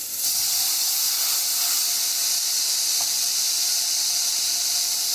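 Banana slices sizzle in a hot oiled pan that was already used for cooking meat, giving a loud, steady, close hiss from start to finish.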